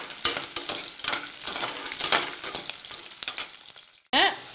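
Onions frying in a pan crackle and hiss with rhythmic stirring scrapes, close and fairly loud, before the sizzle drops away and a short different sound cuts in at the end.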